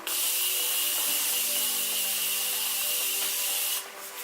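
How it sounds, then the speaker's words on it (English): Continuous setting spray being sprayed, a loud, steady hissing mist lasting nearly four seconds, close up, then stopping abruptly. "It's time for the continuous spray."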